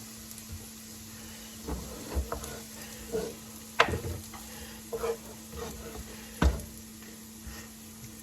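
Potatoes frying in hot oil give a low, steady sizzle beneath occasional soft stirring scrapes and light knocks, fairly quiet and close.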